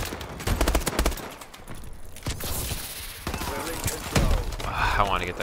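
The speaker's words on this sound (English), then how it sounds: "Sniper fire!" Sniper fire and dense gunfire in the Call of Duty Advanced Warfare video game: rapid loud cracks and bursts, with a glassy shatter and whooshes, under continuous talk.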